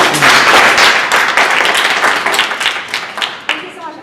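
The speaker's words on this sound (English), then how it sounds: "So if you can please have a big round of applause for Louise" Loud, close applause from a startup event audience welcoming a speaker, sharp clapping that starts strong and thins out near the end, with voices talking through it.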